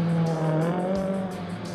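A rally car performs gymkhana at Battersea Power Station, its engine droning steadily with a sustained tire squeal over a continuous roar, close and loud, with no talk.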